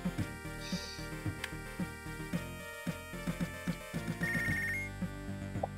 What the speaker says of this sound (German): Ja, jetzt müssen wir erst ans Telefon.